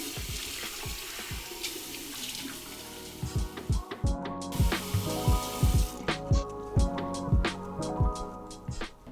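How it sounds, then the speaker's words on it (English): Tap water running into a sink while face cleanser is rinsed off skin, a steady close flow broken by a short pause and then by rhythmic splashes as the hands scoop water. "So I'm gonna go ahead and rinse this off."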